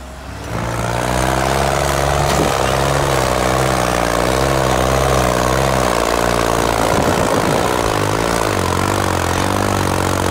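A modified New Holland 3630 tractor engine idling close by, a loud, steady low rumble with an even throbbing beat that holds unchanged throughout, no talk over it.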